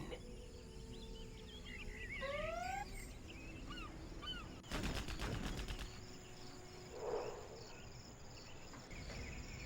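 In the Command & Conquer Generals Zero Hour video game, the GLA unit Jarman Kell fires on rangers, producing a brief rapid burst of shots midway through, set against a steady bed of chirping crickets and scattered birdsong.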